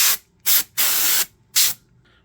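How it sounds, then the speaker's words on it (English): Four sharp hissing bursts of spray from a can aimed at a part of a Mac SE computer during restoration cleaning, close and loud, with brief silent gaps between them and no voices. "We'll give this a good spray down."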